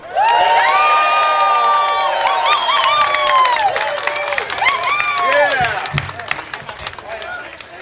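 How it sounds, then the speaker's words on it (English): Crowd at an outdoor Canada Day rally in Ottawa bursts into loud applause, cheering and whooping shouts right at the start, the cheers gradually thinning as scattered clapping and voices continue. "give a round of applause to Artur Pawlowski."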